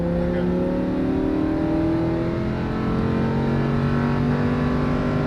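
A Lamborghini Huracan drives hard on a race track, its engine note loud and close inside the car, sweeping steadily upward in pitch as it accelerates with a constant rushing road and wind roar beneath.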